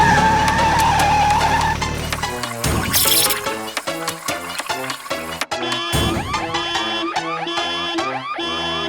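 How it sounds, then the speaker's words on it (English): Animated truck losing control on a street at night, skidding and crashing into a barrel that bursts and spills oil; a loud skid and impact stand out amid a busy musical score with sirens. "the truck slightly loses control and crashes into a barrel"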